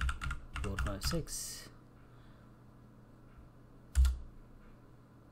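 Computer keyboard keys being typed to enter a passphrase, a quick run of close clicks followed by a single firmer keystroke, with a person speaking between them.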